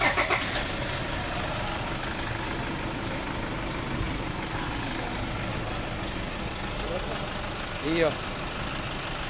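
A Toyota Innova diesel engine runs steadily during an engine oil flush in a workshop, a continuous mid-level rumble with a brief bump near the end, while a voice speaks briefly over it.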